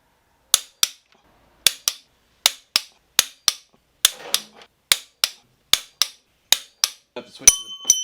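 A torque wrench tightens Mazda BP cylinder head bolts, giving about a dozen sharp, separate clicks at an uneven pace. The clicks are close and crisp over quiet workshop background.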